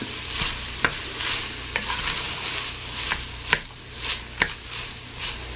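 Onions frying in oil in a pan, a steady close sizzle with a few sharp stirring scrapes and clinks at irregular intervals, no voices.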